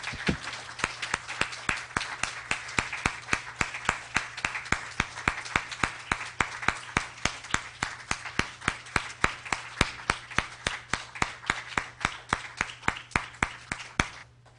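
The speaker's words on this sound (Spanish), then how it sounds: "¿Cuántos podemos dar un aplauso a nuestro Padre en esta hora?" A church congregation claps together in a steady, even rhythm, beat after beat, over a low constant hum.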